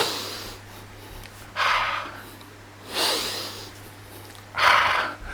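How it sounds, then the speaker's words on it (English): Three breaths are heard alone at even intervals, each a sharp airy rush that rises and fades. A faint steady hum runs underneath. "Living things breathe in and breathe out."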